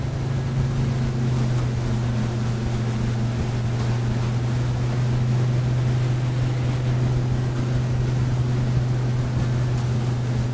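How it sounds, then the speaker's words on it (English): A Mikelson 43 motor yacht cruises at about 25 knots, giving a steady, deep engine drone mixed with rushing water and wind noise that holds constant and loud throughout, with no talking. "I'm gonna pull back to about a 25 knot cruise"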